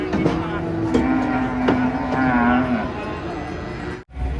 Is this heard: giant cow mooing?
yes